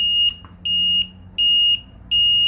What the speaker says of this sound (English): Operating this voltage alarm is done by simply connecting first your battery